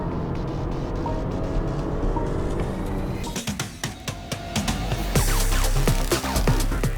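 A BMW X3 30 xDrive M Sport Pro in sport mode runs its engine with a low throaty drone, then sharper rising pulses and revs as it accelerates, heard alone and fairly close.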